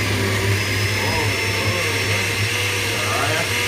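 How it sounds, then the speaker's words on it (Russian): A Rotel ProMix 474 blender runs at its second speed, giving a loud, steady motor whine that holds constant throughout with no break in pitch or level. "Это блендер."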